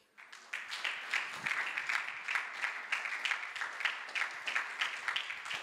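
A church congregation claps steadily through a Sunday evangelical service, a sustained wash of many hands forming a dense, even rhythm that swells in soon after the start and holds at moderate distance.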